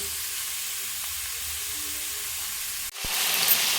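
Chopped garlic and ginger frying with mushrooms in a pan give a steady, even sizzle throughout, with a brief dip followed by a louder, brighter hiss as more goes into the hot oil.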